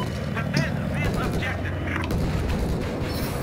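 Helicopter gunner firing in Battlefield 4, with a dense barrage of booming cannon shots and explosions over mechanical game noise, while a player talks excitedly over the action.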